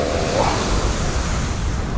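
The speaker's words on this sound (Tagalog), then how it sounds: "Grabe talaga pressure ng hangin" Strong wind by the sea, a loud continuous rushing roar with a steady surf-like wash and no break.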